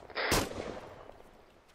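A single sharp gunshot in a military shooter game during a multiplayer operation at a compound, loud and close, followed by a fading echo.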